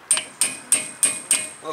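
Five sharp, evenly spaced metallic hammer taps on the front brake assembly of a 2017 Honda Civic during a brake job, each strike ringing briefly, close and clear with no talking.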